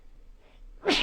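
A single short sneeze bursts out near the end, loud and close, after a quiet moment during a weather forecast.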